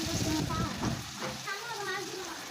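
Ginger garlic paste sizzling in hot oil with already fried onions while cooking a red amaranth leaf curry, a steady crackling fry with light stirring, fairly soft and close, a voice speaking faintly over it.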